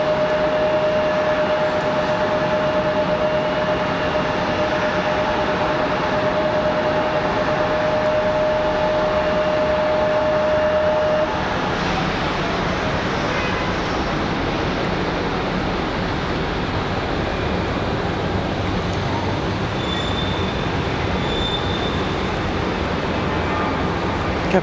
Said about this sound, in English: Sounds like Southwest departing.